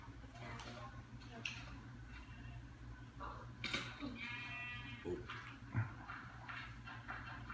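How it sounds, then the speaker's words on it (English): A pink sheep in a video game bleats faintly a couple of times amid low ambient noise, with a person talking intermittently over it. "That's a pink sheep."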